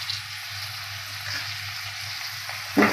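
Chopped onion sizzles steadily in a hot pan that already holds cooked green peas, a broadband frying hiss throughout, with a brief louder clatter near the end as something is stirred.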